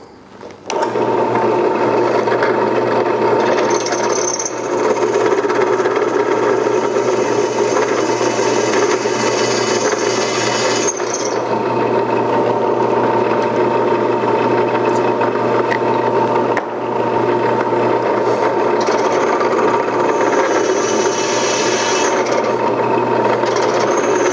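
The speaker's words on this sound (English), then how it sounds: "With that in place, we go in and we drill the other hole." A power drill whirs continuously at close range, with brief pauses and a shift in pitch as it bores a bolt hole through material.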